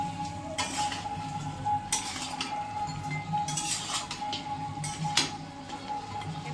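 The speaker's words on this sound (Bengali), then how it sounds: "এটা ভালো করে মিক্স করে দেবো।" Cumin powder being stirred into chicken masala in a pan, with several sharp scraping and clinking strokes of a spoon against metal at an uneven rhythm over a steady cooking hiss.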